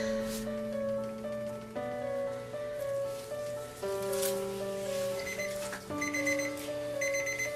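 A kitchen timer alarm goes off during handcrafted soap making, a steady repeating electronic melody of bright beeping tones looping for several seconds, clear and close with no speech over it.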